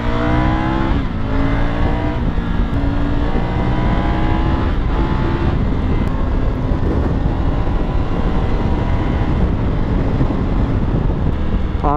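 Triumph twin-cylinder motorcycle engine running steadily while riding on a wet road in the rain, a continuous loud drone with shifting harmonics and wind rush across the microphone, no speech.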